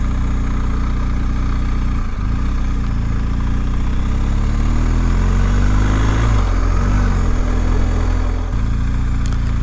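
BMW 1250 GS motorcycle engine running steadily with a low, continuous drone and slight pitch rises as the throttle is blipped, no voices over it.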